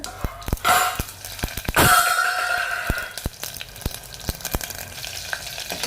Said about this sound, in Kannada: ಈಗ ದಪ್ಪ ಗೆಜ್ಜಿರೋದು ಬೆಳ್ಳುಳ್ಳಿ ಹಾಕೋಣ.